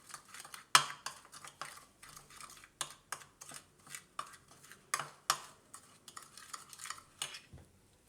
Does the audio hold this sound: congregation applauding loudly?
no